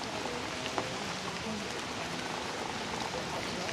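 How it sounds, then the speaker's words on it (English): Rain falls steadily around a home, a soft, even hiss of drops with no breaks, faint and distant throughout. "Today rain."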